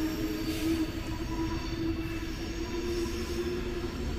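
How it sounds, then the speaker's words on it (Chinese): A train passes overhead in Switzerland, making a steady, loud rumble with a faint squeal from the wheels. The sound stays constant throughout, with no voices. "头顶有火车开过去了"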